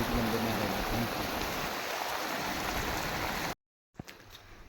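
Steady heavy rain pouring down during a thunderstorm, a dense close hiss that cuts off abruptly to near silence, followed by a few faint knocks.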